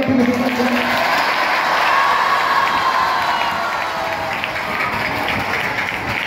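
An audience at a Teachers' Day celebration breaks into sustained applause with scattered cheers and shouts, a dense, even clatter of clapping that fills the whole stretch and eases slightly toward the end.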